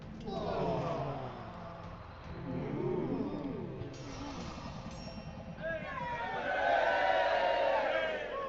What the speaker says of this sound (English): Perhaps a crowd of people making noises.